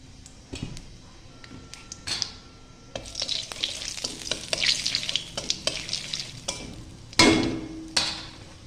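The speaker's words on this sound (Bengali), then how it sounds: "কড়াইতে খানিকটা তেল দিয়ে তেলটা গরম করে নিয়েছি, আর এর মধ্যে আমি দিয়ে দিচ্ছি কালো জিরা ফোড়ন" Black cumin seeds crackle and sizzle in hot oil in a wok, heard close as a quick run of sharp pops and spits over a soft hiss, with a louder burst near the end.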